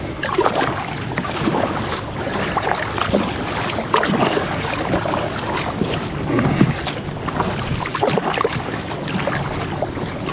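A loaded kayak is paddled on the sea, with repeated splashing paddle strokes in an uneven rhythm over steady wind noise and water wash, close and fairly loud.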